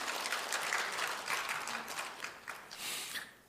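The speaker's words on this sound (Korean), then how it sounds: "미리 한번 우리가 격려의 박수를 좀 한번 보냈으면 좋겠습니다" Congregation applauding in church, a steady broadband wash of many hands clapping together that continues throughout and fades out at the end.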